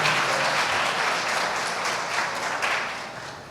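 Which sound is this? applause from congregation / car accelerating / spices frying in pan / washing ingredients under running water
applause from congregation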